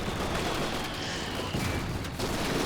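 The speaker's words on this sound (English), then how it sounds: "I will fire a Panzerfaust and just shoot the ground, apparently." Panzerfaust fired in Company of Heroes 2, a World War II strategy game, in a dense spread of gunfire and blasts, with one sharp report inside continuous loud battle noise.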